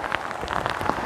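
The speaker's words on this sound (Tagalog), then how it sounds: "Grabe, ang ulan mga kabayan." Heavy, continuous rain falls in the forested mountains, pattering densely on nearby surfaces at close range, with no voices.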